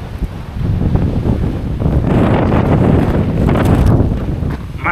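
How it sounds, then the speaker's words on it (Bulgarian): Strong wind buffets the microphone of a cyclist riding the Kalandzha 42 km route, a loud, continuous roaring rumble that surges and gusts for about five seconds with no voices. "Какъв този вятър е!"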